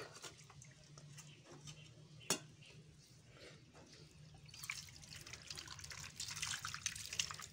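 Tap water runs and splashes while eggs are washed for salting, a soft trickle that grows louder and busier toward the end, with occasional drips and a sharp knock.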